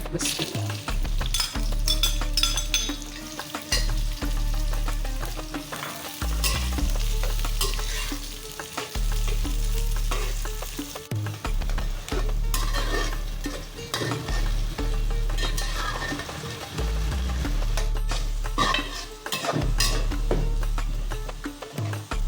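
Chopped large onion fries in hot oil with garam masala in a pot for aloo gosht, a steady close sizzle broken by repeated scraping stirs of a spoon against the pot.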